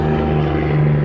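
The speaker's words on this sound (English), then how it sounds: "once I get inside the van and officially turn it on here with the key," A 2018 Dodge Caravan GT wheelchair van's engine starts with the key and settles into a loud, steady idle hum with a low tonal drone, heard up close with no talk.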